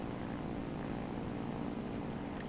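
A propeller airplane engine drones steadily as the aircraft climbs shortly after takeoff in War Thunder's simulator mode, a constant dense hum with no breaks and no speech.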